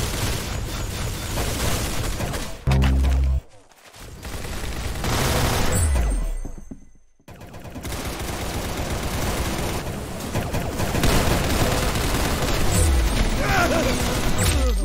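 Rapid gunfire, bursts and explosions from the Roblox game Arsenal, loud and almost continuous, with brief pauses and occasional talk underneath.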